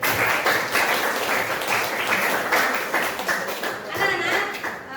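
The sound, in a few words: children clapping applause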